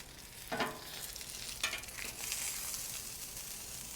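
A frozen steak sizzling on a flat top griddle, steady crackling fry with a few sharper pops, close and continuous, with no talking.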